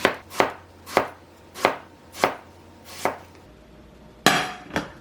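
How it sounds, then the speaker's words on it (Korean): A knife slices eggplant into thin rounds on a cutting board, eight sharp chops in a steady rhythm, close and clear with no talk. "동그란 모양으로 얇게 썰어 줄게요."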